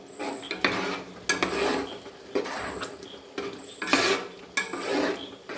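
Metal spoon scraping and stirring jackfruit halwa in a pan as cumin powder is mixed in, with repeated clinks and scrapes in an uneven rhythm, close and moderately loud, with no talking.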